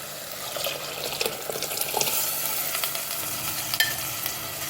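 Dal water is poured into a hot pan of masala with steady sizzling and bubbling, a continuous close-up wash of watery noise with faint clinks.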